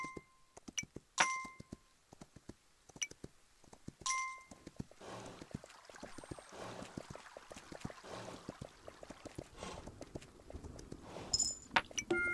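Horse hooves in the video game Kingdom Two Crowns: soft rhythmic clip-clop of a mount trotting, with bright chiming tones and clinks over the first seconds, then a busier patter of steps, all fairly quiet.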